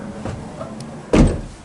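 A bathroom barn door slides along its track with a short rumbling roll and a muffled thud as it stops, heard close up in a quiet house with no talking.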